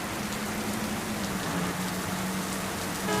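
Steady rain falls behind a house, making an even, continuous hiss of drops with a faint low hum underneath and no voices.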